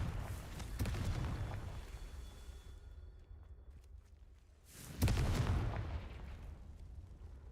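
Explosive blasts from a Confringo fire spell cast in a video game: a heavy booming burst at the start that fades away, then a second loud explosion about five seconds in with a rumbling tail, and no voices.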